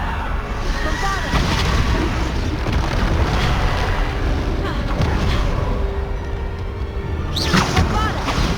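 Bombarda spell blasts during Hogwarts Legacy combat, dense booming bursts and rumble over a constant busy din of game effects, loud and continuous with a voice shouting spell names.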